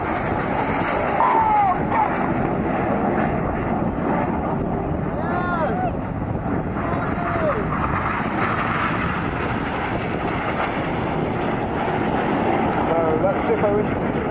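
Four display jets fly a formation pass at an air festival, their broad engine roar steady and loud throughout, with a commentator's voice running over it.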